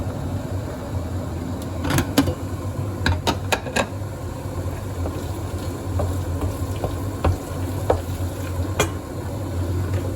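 Eggs frying in a pan give a low, steady sizzle, broken by a few sharp clinks and taps of a utensil against the pan, with no one talking.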